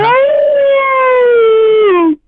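A lone wolf howl sound effect: one loud, sustained tonal howl that holds steady for about two seconds, then bends downward and cuts off, with nothing else heard around it.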